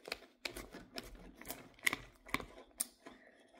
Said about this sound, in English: let me cut my pizza